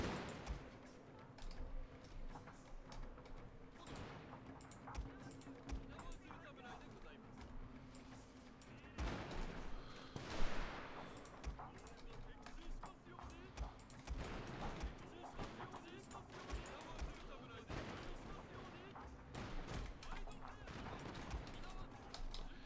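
Matchlock gunfire volleys crackle across a Shogun 2 Total War battlefield, scattered shots and ragged bursts layered over a constant din of battle noise, fairly quiet overall and under someone talking.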